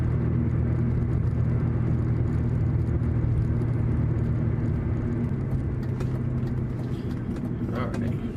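A BMW 530i exhaust grumbles low and steady in fifth gear at about 1,500 RPM, a constant resonant drone heard from inside the car.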